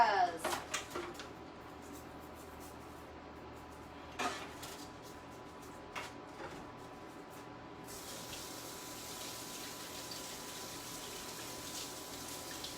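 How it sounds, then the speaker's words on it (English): Tap water runs steadily as cheese is washed off fingers at a kitchen sink, a continuous hiss filling the second half after a few earlier clinks and faint splashes. "Let me wash the cheese from my fingers."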